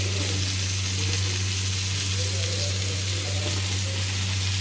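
Potatoes, beans and carrots stir-fry in a pan for egg chow mein, a continuous, even sizzle with a low steady hum underneath and no talking.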